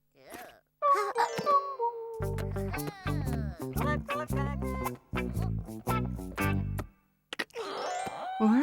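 A cartoon doorbell in a children's Maisy Mouse episode gives a bright two-tone chime, followed by playful plinking musical notes in short bursts with brief pauses between them.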